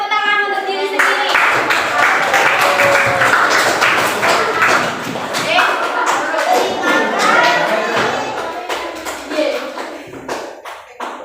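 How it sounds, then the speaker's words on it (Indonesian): A room full of hands clapping in a fast, ragged burst, loud and close, with children's voices chattering underneath as it fades. "semuanya berikan tepuk tangan untuk diri sendiri"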